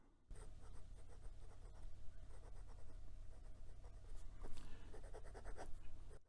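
Steady scratchy nib strokes from a Moonman Q1 fountain pen moving across Clairefontaine 90 gsm paper, close and quiet, with small pauses and louder strokes as the writing continues.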